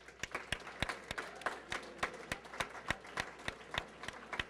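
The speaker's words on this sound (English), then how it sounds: "I want to give a quick round of applause to Professor Mani for throwing everything for this together" Scattered hand claps from a small group in a classroom or lecture setting, applauding a professor; sharp, irregular claps recur steadily for several seconds at moderate distance over a faint background murmur.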